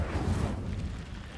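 An Incendio fire spell cast in Hogwarts Legacy bursts out as a loud, deep whooshing boom, then rumbles and fades over about a second, with no talk.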